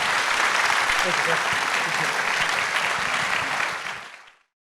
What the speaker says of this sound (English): Give a round of applause for Sheriff Fortney.